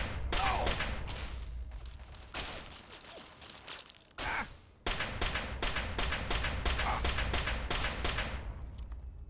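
Video game gunfire from Fallout 3, a steady rapid stream of close, loud shots running almost the whole time, broken only by a brief lull partway through.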